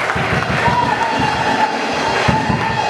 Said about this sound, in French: Acclamons tous le Seigneur